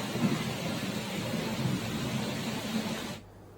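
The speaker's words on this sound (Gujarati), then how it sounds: "ભારે વરસાદથી રસ્તાઓ પણ પાણીથી ભીંજાયા છે" Dense, steady rush of heavy monsoon rain flooding streets in Upleta, Gujarat, with a low rumbling undertone, constant and loud, cutting off abruptly near the end.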